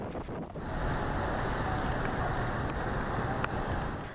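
Gusty typhoon wind sweeps across Hong Kong harbour during a number 8 signal, a steady loud roar buffeting the microphone almost continuously with a brief lull near the start and no voices.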